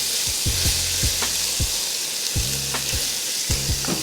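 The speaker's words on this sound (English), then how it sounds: "Once you add the flour, you want to give it a mix, cook off the raw flour taste." Flour cooks in a hot pan for a spinach dip pasta sauce, giving a constant loud sizzle and frying hiss with repeated rhythmic scraping knocks as it is stirred, and no voices.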